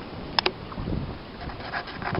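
Steady north wind rushing over the water beside a fishing boat, a continuous low blustery noise with a couple of faint knocks early on and no talking.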